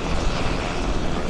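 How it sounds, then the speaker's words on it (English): A UH-60 Black Hawk helicopter descending to land during an airshow demonstration at Quonset, Rhode Island: a dense, continuous roar of turbine and rotor noise, loud and close, with no one talking. "As the UH-60 prepares for a standard landing here, you can watch as he brings it on down ever so slightly"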